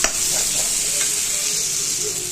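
Masala frying in a pan for a home-cooked gravy, with a steady, close, loud sizzle and light stirring scrapes running throughout, no voices.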